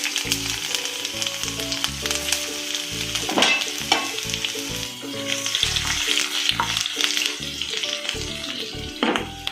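Sliced ginger frying in a pan for a mango and carrot white pickle, a steady close sizzle with occasional stirring scrapes, heard under tonal background music with no talking.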